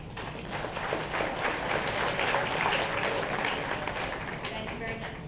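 An audience at a high school sports banquet gives a dance team a sustained round of applause, dense crowd clapping at a steady, moderately loud level for the whole stretch.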